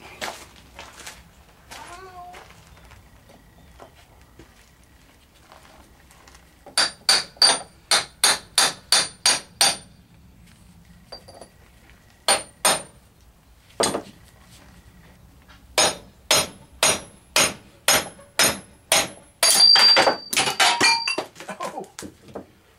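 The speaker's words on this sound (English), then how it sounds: "I'm thinking we can just drive that out with a socket" Sharp metallic hammer blows ring out in quick bursts as a socket is used to drive out the rear hub seal on an '85 Chevy C30. The strikes come in several rapid groups with pauses between them, close and clanging, with faint talk in the background.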